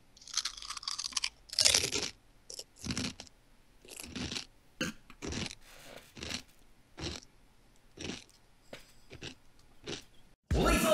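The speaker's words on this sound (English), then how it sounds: "I just want to hear the crunch." Crunchy food chewed close to the microphone: a steady series of sharp, crisp crunches with short pauses between bites, brief voices mixed in, and a loud burst at the end.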